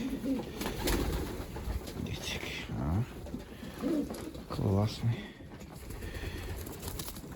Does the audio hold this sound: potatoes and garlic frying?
no